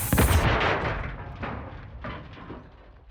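Gunfire from the Modern Warfare 2 (2022) video game: a loud close blast opens, followed by a few fainter echoing shots spaced about half a second apart as the sound decays.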